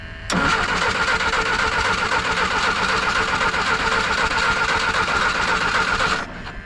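A 1951 Jeep CJ3A engine cranks without catching, a loud, continuous rhythmic churning of the starter that begins abruptly and runs for about six seconds before cutting off.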